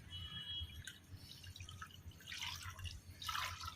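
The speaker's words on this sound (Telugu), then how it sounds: "నీళ్ళు పోద్దాం వాటర్ తీసుకో" Water poured and dripping into tamarind while sambar cooks on a husk-fired stove, heard as soft splashy bursts that swell twice toward the end over a steady low background.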